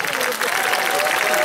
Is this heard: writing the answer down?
no